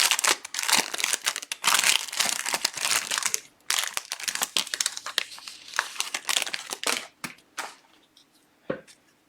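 Wrapping paper crumples and crinkles close up in loud, irregular bursts, with short pauses between handfuls.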